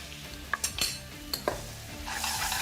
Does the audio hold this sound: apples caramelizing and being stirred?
yes